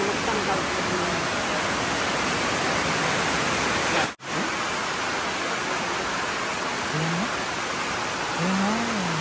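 Heavy rain pours at night in the mountains as a steady, dense wash of noise, loud and continuous, broken briefly by a short gap; faint tonal sounds come through near the end.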